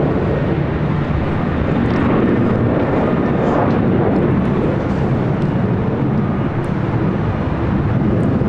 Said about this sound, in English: Japan Airlines Flight 15 heading back to Tokyo Haneda